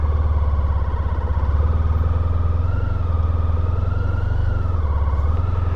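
A motorcycle rolling at very low speed under careful, progressive clutch control, its engine note holding a steady low throb with small rises and dips in pitch, close and continuous with no talking.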